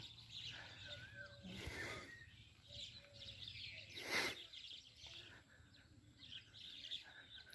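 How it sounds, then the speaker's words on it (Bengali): Birds chirp faintly in the trees of a garden on Nijhum Dwip, giving short scattered tweets and whistles over quiet outdoor ambience. "আর পাখির যে কিচিরমিচির ডাক হয়তো আপনারা শুনতে পাচ্ছেন"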